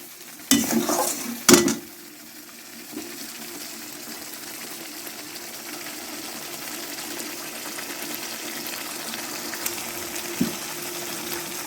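Masala paste for Kashmiri dum aloo being sautéed in oil with a splash of water, opening with two loud clattering stirs, then a low steady sizzle with an occasional soft scrape, no voices.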